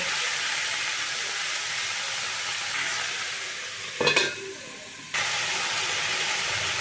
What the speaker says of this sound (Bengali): এখন এটাকে আমি ঢাকা দিয়ে দিয়ে একটুখানি কষিয়ে নেব